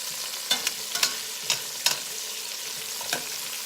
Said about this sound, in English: then we'll go ahead and we'll give everything a stir again